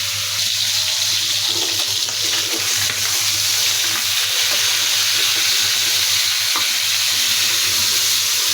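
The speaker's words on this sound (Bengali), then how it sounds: "এই মাংসটাকে আমি ভেজে নিব।" Chicken meat, about two kilograms, frying in a pan, a loud dense sizzle throughout with scattered scraping and clatter from stirring, alongside a steady low hum.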